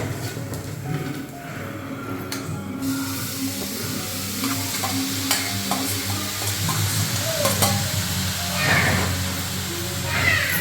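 Spinach with grated coconut is stirred and fried in a pan, giving a steady sizzle and hiss broken by scraping stirs and clinks of the utensil throughout.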